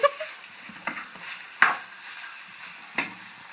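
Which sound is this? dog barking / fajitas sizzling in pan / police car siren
fajitas sizzling in pan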